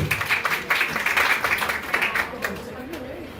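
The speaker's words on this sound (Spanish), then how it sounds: "Fuerte el aplauso para ella, por favor." Audience applause at an education congress on communicative competencies, a broad clatter of clapping that stays fairly steady and then eases off, mixed with a speaking voice throughout.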